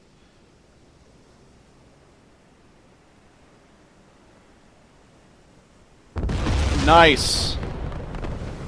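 A torpedo strikes the bow of a ship in the Silent Hunter III submarine game. After six seconds of faint hiss, a sudden loud, booming explosion erupts and rumbles on with a brief higher-pitched crackle, and a voice makes a short remark.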